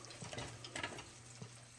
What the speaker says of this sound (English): it's frying that outer surface of that, and it won't break up after that